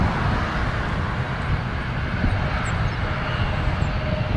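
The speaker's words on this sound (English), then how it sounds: "I just want to look at this Dreamliner for a second. The Dreamliners look great in the WestJet livery" A WestJet Boeing 787 Dreamliner at Toronto Pearson airport gives a steady, broadband jet engine roar that holds at an even level throughout, with a faint whistling tone above it and no voices.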